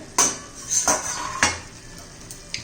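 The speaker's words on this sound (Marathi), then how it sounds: "झाकण काढून चेक करूया" A metal lid comes off a pan of cluster bean kheema with a few sharp clanks and clatters close by, three distinct knocks followed by lighter taps over a quiet background.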